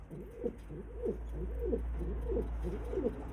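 Pigeons cooing softly in a loft, about five low, rolling coo phrases in steady succession over a constant low hum, no talk.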